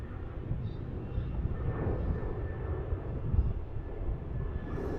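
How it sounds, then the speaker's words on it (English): A Qantas Boeing 737-800 taking off at Melbourne Airport, a steady distant jet engine roar with wind rumble, moderately quiet and unchanging over a few seconds. "QF151 off to Auckland, 737-800."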